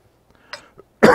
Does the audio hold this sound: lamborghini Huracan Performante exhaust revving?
no